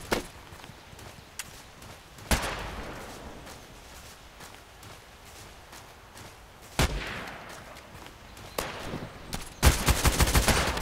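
Gunfire in the shooter game Contract Wars with an FN SCAR-L rifle: sharp single shots and short bursts, ending in a rapid loud volley, amid footsteps and ambient game noise.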